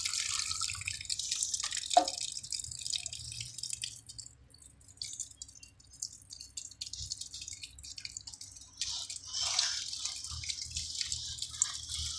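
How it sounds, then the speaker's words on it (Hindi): Water poured through a sieve to wash a sand sample for a silt content check, giving a steady trickling and dripping flow with a sharp splash early on, continuous and fairly close with no talk. "एक बार इसको हिला लो जैसे सीव करते हैं पानी डालकर।"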